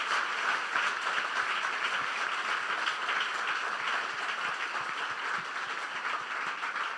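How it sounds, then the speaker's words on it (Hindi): Congregation applauding in unison at an Ambassadors of Christ Apostolic Church sermon, a dense, steady wash of many hands clapping that holds evenly for the whole stretch with no voices on top. "यीशु के लिए तालियां बजा दें"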